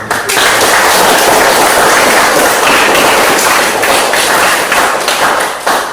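A classroom of students applauds together, a loud, dense burst of clapping that starts abruptly and holds steady for several seconds before easing off at the end.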